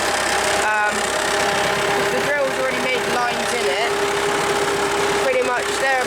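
A tractor rolling grass seed climbs a steep slope with its engine labouring in a steady, strained drone, while tonal whines rise and fall over it.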